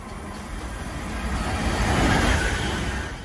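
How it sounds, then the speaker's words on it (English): A high-speed bullet train on dedicated tracks rushes past, its broad roar swelling loudly to a peak and easing slightly, with no voices. "Bullet train, a high-speed train designed to run at high speeds over long distances on dedicated tracks."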